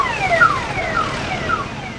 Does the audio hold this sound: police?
yes